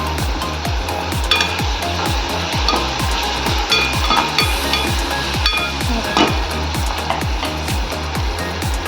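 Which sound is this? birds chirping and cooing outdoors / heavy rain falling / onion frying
onion frying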